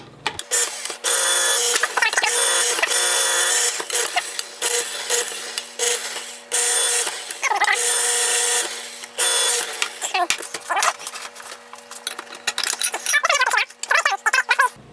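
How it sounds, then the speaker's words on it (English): A powered electric can opener grinds around the rim of a can, a steady mechanical whir with a low hum, broken by brief stops, clicks and rattles, close up and with no speech. "I've got a powered can opener here."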